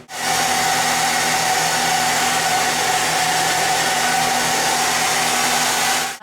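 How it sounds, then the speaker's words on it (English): A hair dryer blows in one loud, steady whir for several seconds during a quick rough dry of hair in a salon, starting and stopping abruptly with no voices over it. "I'm just gonna do a quick rough dry, just to get it dried"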